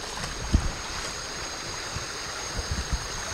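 Someone wades into a cold outdoor stream, the steady rushing flow of water filling the background with a few soft splashes and sloshes as the legs move through it.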